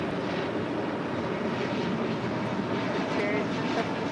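Spirit Airlines airliner taking off from runway 25 right at LAX, a loud, steady broadband engine roar that fills the whole stretch without letup.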